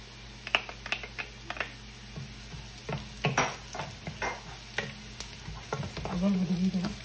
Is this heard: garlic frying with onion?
yes